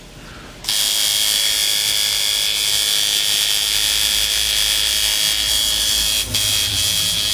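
A freshly tuned coil tattoo machine, a liner or shader, buzzes in a loud, steady, rapid hammering drone that starts abruptly after a brief quiet moment and runs on with only a tiny dip near the end.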